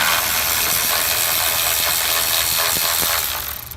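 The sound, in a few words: Milwaukee cordless battery ratchet unscrewing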